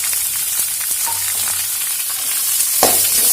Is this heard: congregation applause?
no